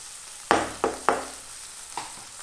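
Onion is stirred into a hot pan for egg masala, giving several sharp scraping stir strokes close by over a faint continuous sizzle, with pauses between strokes.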